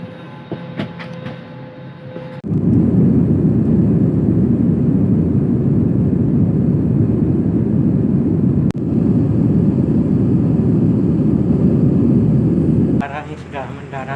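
An airliner flying into Sepinggan airport in Balikpapan fills the cabin with a loud, steady low engine roar that starts abruptly after a quieter opening and holds until near the end, where voices are heard.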